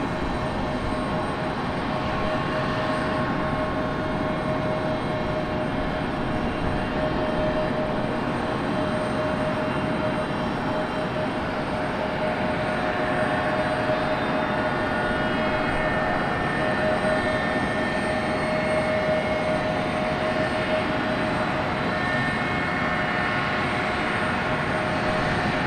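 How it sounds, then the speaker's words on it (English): Delta Embraer E175 jet waiting at Raleigh-Durham airport runs its auxiliary power unit, a steady, continuous whine and rumble heard from outside at moderate distance, unchanging and with no voices. "Here we go, external APU noises."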